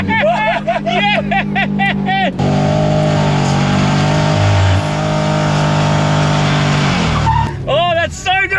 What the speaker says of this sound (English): Always wanted to pirouette a Subaru.